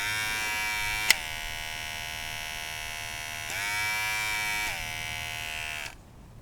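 A small electric motor whirs with a steady buzzing whine, its pitch shifting as the speed rises and falls when a solar panel is connected and disconnected, with sharp clicks at the switch points before it cuts out.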